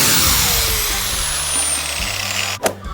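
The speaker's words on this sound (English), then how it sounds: "Now we're gonna grind this off and make it smooth." An angle grinder smooths a steel weld on homemade table legs, a loud close whine that holds steady and slowly winds down, with a short knock near the end.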